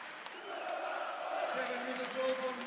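A crowd at a women's handball final between Norway and Montenegro gives steady, sustained applause and cheering throughout. It forms a broad, moderately loud wash of sound.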